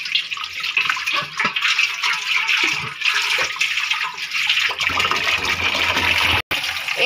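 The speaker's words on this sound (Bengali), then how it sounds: "পাতিলাটাও ধুয়ে নিচ্ছে।" Tap water runs hard and steady while a cooking pot is washed in a kitchen sink, a loud close rush with small knocks and clatter, and no talking.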